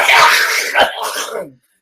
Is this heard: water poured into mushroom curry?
no